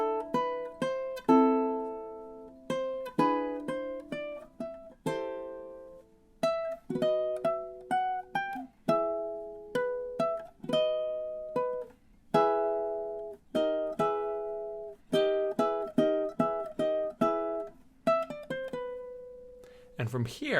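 Ukulele plays melody B of the Luigi's Mansion main theme, a steady stream of bright plucked notes and chords with quick repeated attacks over about twenty seconds, close and alone.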